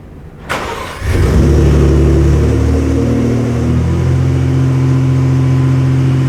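A 2018 Ford F-150 Raptor pickup's starter whirs for a moment, then the engine catches with a loud roar and settles into a heavy, throaty rumble, close and steady.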